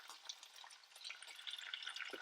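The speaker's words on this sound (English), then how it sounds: "we're going to fry up the livers. Okay, with sizzling oil" Duck livers fry in hot oil in a pan, giving a faint, steady crackling sizzle with small pops, close and alone.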